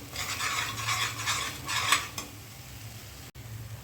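Masala being stirred and roasted in oil in a pan while making garlic methi, with repeated scraping strokes and a low background hum, no talk.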